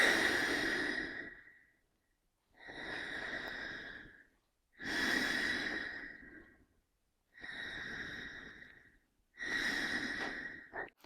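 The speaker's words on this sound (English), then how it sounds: "By breathing and sucking in, we also automatically create the effect of yawning, because the hose works as an extension of our windpipe." Breathing in and sucking air through a hose, heard alone as five long, rough, hollow breaths separated by short pauses, each with a strong whistling rush.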